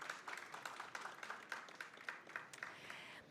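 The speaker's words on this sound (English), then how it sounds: "One more round of applause for these incredible leaders here on stage." An audience applauding leaders on stage at a live-streamed event, rhythmic clapping from a sizable crowd, fairly faint and distant, steady throughout with no talk over it.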